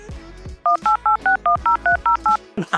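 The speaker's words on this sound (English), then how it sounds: "that's my cell phone." A cell phone gives a quick run of about ten evenly spaced beeping keypad tones, loud and close, with brief sounds before and after.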